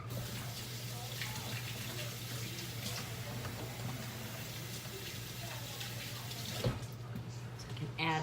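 Kitchen tap water runs steadily while hands are washed under it, producing a continuous splashing hiss over a low hum, with a brief clunk near the end as the flow shifts.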